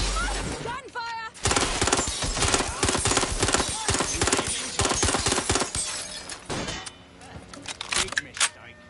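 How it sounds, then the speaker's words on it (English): Rapid, loud gunfire crackles through a street fight in Watch Dogs: Legion, mixed with sharp impacts and shattering, while voices talk over the shooting. "Gunfire!"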